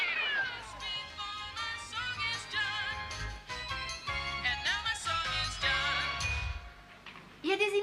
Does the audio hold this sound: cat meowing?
yes